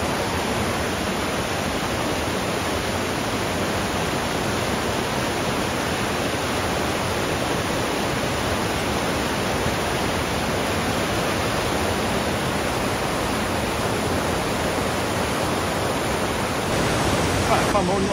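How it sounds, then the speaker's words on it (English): River rapids roar steadily and continuously, a broad close wash of rushing water with no pauses. "Nice little bit of rapids going on."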